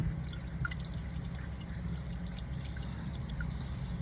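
Water trickling steadily out of the stuffing box pipe of a sailboat afloat, a continuous close gurgling flow with soft splashes and no talk.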